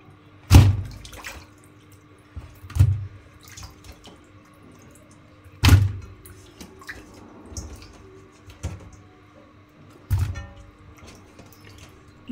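Cut khalisha fish washed by hand in water, with loud splashing bursts recurring every few seconds and quieter sloshing and drips between them, near and with no talk.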